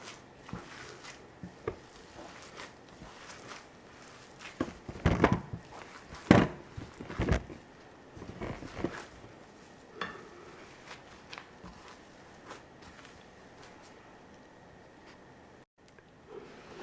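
Minced meat with onion and breadcrumbs is kneaded by hand, giving soft squelching, slapping and patting sounds in an irregular rhythm, quiet overall with a few louder squishy bursts in the middle.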